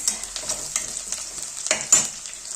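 Onions frying in a pan for a Nepali-style snail dish, a steady close sizzle with soft stirring scrapes and a couple of louder spatters near the end.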